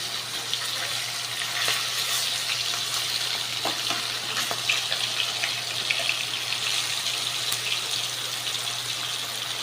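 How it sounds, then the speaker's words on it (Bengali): Fish frying in oil in a kadai, a steady broadband sizzle with scattered pops and crackles, close and continuous throughout with no talking. "মাছগুলো এবার ভাজা করব, ভেজে নেব"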